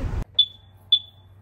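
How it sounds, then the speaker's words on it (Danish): Two loud, sharp electronic beeps spaced about half a second apart from a Fisker Ocean One electric car, each ringing briefly over a quiet low hum after a short burst of noise. "Og den har også en enorm høj biplyd."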